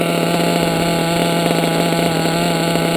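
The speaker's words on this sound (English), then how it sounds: "Now I usually warm up my engines, I preheat them to 200." A freshly started engine warms up at a constant idle, giving a close, steady, loud droning hum with an even pulse and no change in pitch. No one talks over it.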